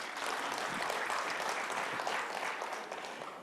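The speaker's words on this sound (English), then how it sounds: "So one more round of applause for Madan and what he's doing." Conference audience in Bangalore breaks into a dense round of applause, many hands clapping steadily at moderate distance before it begins to fade near the end.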